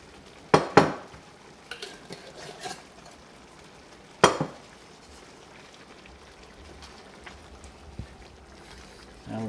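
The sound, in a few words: stirring BBQ shrimp with onions in a pan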